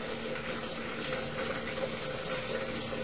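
Water discharging out of a tank into a bucket, a steady continuous rushing pour at constant loudness throughout, close and alone without talk.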